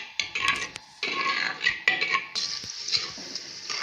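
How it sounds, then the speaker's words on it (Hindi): Spoon stirring onions in a pot as they fry toward light brown while making kadhi pakora, with bursts of scraping and clinking against the metal separated by brief pauses, close and fairly loud. "इतनी देर तक हमें चम्मच चलाते जाना है कि हमारा प्याज जो है वो लाइट ब्राउन हो जाए।"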